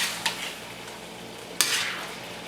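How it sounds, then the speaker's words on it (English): Soft bubbling and sizzling from a pan of Kung Pao chicken sauce, with a few scraping stirs and clinks of a utensil against metal; no voices. "our sauce is boiling good now"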